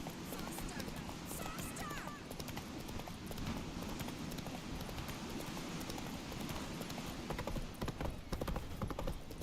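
Roach the horse gallops in The Witcher 3 video game, a dense rapid patter of hoofbeats running steadily under game sound and voices.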